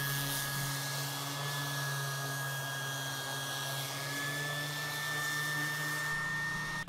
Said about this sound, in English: I will do any touch-up sanding to make sure the seams are invisible on the panel